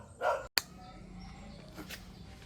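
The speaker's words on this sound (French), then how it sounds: "il y a des chiens qui vous aboient dessus" Dogs bark in a jungle camp in Vietnam, a short burst followed by a sharp snap, then a low continuous background hum with faint rustling.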